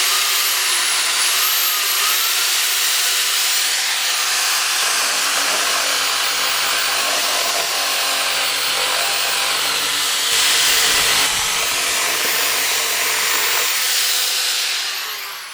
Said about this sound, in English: we're going to use a drum sander in our drill. Things are going to get a little noisy here